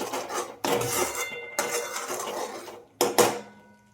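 Mutton masala being stirred and sautéed in a metal pan, with a spatula scraping and clinking against the pan in several loud bursts separated by short pauses, no talking.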